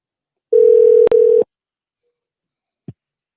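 A steady telephone tone sounds on a live radio show, loud and clear for about a second, broken by a brief click, then goes silent before a short faint blip.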